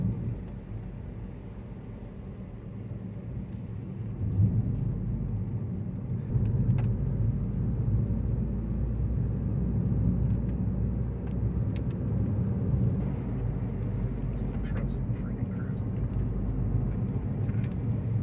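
Toyota Yaris GR rental car driving on Japanese roads, with a steady low engine and road drone heard from inside the cabin and faint light rattles on top.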